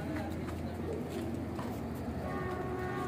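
A pigeon of a flying breed coos softly amid a busy, noisy background, with a voice speaking in the foreground through the short stretch.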